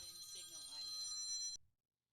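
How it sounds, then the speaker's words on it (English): A telephone rings once, a bright electronic trill lasting about a second and a half that cuts off abruptly into silence. "That was the phone."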